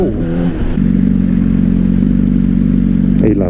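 A 2025 Honda CBR600RR sports bike rides through traffic, its engine droning loud and steady with a sustained mid-pitched hum and clattering undertone, after a brief shift in tone at the start.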